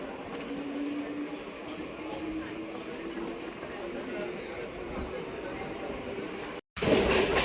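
Mumbai suburban local train slowing as it runs into Dadar station, a low steady rumble with a faint squealing tone, fairly quiet, ending in a sudden burst of louder noise.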